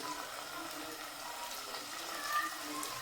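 Water is poured into a pot of potatoes cooking for aloo pulao, a faint, steady gushing wash heard alone close by.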